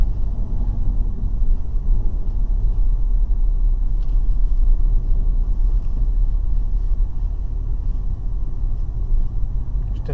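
A car climbs a snowy, slippery slope on Avon WV7 winter tyres, its engine a steady low rumble close by, with no voices over it.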